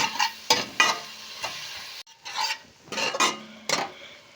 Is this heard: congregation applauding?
no